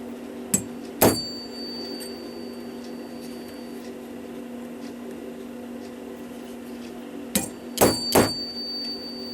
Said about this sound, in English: I will give that a solid whack